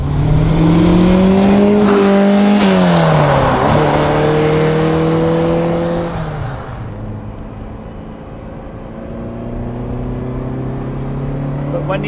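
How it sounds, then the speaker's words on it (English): A Ferrari 308 GTS carbureted V8 roars from inside the car, its pitch climbing through the gears with brief dips at shifts, then settling to a steady drone. "open those carbs and you hear that V8 behind"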